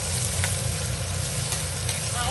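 Onion pieces frying in a little oil in a pan as they are turned, giving a loud, steady, close sizzle with light stirring throughout.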